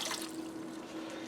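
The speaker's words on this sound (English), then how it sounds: "I'm going to add in 2 cups of water." Two cups of water poured into a pressure cooker over large diced sweet potato chunks, a brief steady splashing trickle, close and fairly quiet.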